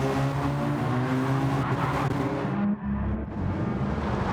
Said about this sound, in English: we got a car slipping and sliding there